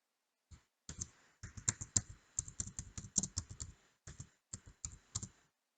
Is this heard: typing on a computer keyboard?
yes